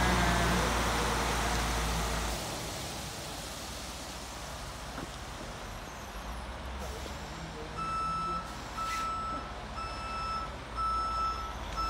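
A truck sounds its reversing beeps while delivering a new 2020 Supra on its back, a steady train of evenly spaced beeps coming in after a stretch of broadband noise, with people talking faintly nearby.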